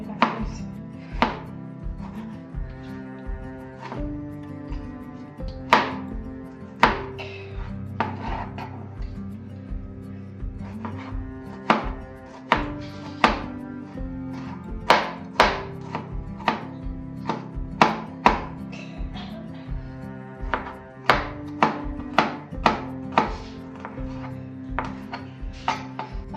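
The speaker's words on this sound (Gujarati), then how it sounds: "હવે એક ટામેટું કાપી." A knife chops a tomato on a cutting board, the blade striking the board in a steady series of sharp, close taps with louder accents, with kitchen ambience underneath and no talking.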